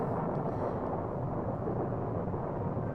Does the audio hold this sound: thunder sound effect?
yes